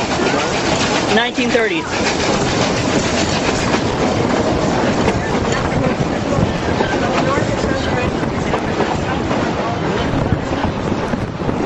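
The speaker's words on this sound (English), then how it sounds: "When were these locomotives actually built?" A Durango and Silverton steam locomotive rumbles loudly past at a railfest, with steady heavy rolling and clattering wheels on the rails, wind buffeting the microphone, and a voice speaking briefly over the din.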